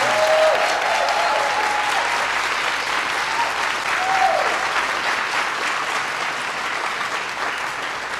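Sustained applause from a large crowd greeting the US President and First Lady, steady and dense throughout, with a few faint whistles rising above the clapping.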